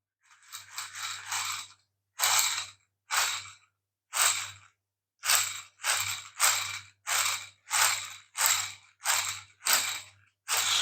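A 3D-printed MakerBot hand-cranked dynamo with gears turns in repeated short bursts, each a whirring, ratcheting spin with a low hum, about a dozen pulses in an uneven rhythm, close and clear with silence between.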